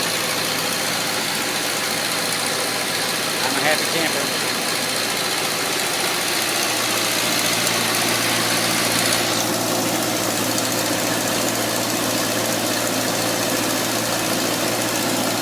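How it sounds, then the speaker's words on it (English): A Ford tractor engine running on a gasifier idles steadily throughout with a constant low hum and mechanical chatter; someone speaks briefly over it. "Tractor seems to be running just fine."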